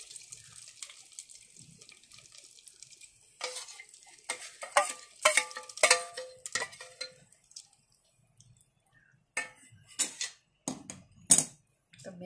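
Hot tadka tempering poured and stirred into rava masala appe batter, a brief sizzle followed by clinking spoon strokes and wet mixing scrapes in irregular bursts, close and quiet with pauses between.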